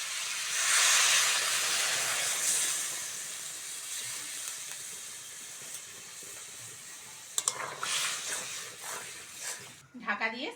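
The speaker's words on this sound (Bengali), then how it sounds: "ঢাকা দিয়ে সেদ্ধ করে নেব।" A covered pot of vegetable curry with flat beans, potato, eggplant and spring onion simmers with water. A loud steamy hiss fades gradually, broken by a few light clatters near the end.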